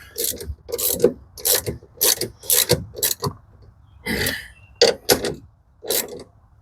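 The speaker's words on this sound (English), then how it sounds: "Now just tighten these down." A ratchet tightens bolts during a Skar Audio rebuild, giving short, sharp bursts of clicking ratcheting repeated about ten times with brief pauses between them, close and clear.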